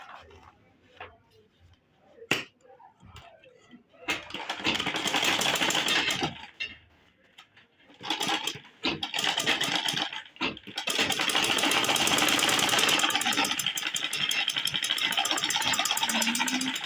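Sewing machine top stitching a pocket onto a fabric shopping bag, running in bursts of steady whirring that grow longer and denser, with short pauses between runs and no talking.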